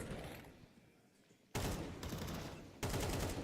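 Counter-Strike match gunfire: a muted stretch gives way to two loud bursts of rapid shots, the second after a brief gap, with no talking.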